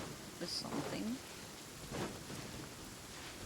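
Heavy rain falls steadily across a Fontaine scene in Genshin Impact, with a low rumble of thunder and a few soft, brief sounds over the downpour. A voice speaks briefly.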